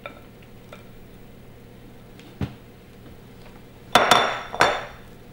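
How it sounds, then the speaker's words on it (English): A spatula scrapes the last of a gluten- and grain-free banana bread batter into a baking pan, with a few faint taps and then three sharp clanks and scrapes near the end, close and otherwise quiet. "We'll just use a spatula to make sure that we get all the last little bits out"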